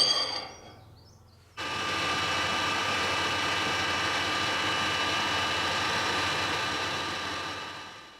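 A metal lathe turns while facing the end of a workpiece, held in a four-jaw chuck at the tailstock; a brief quiet start gives way to a steady, even machining whir that fades slightly at the end.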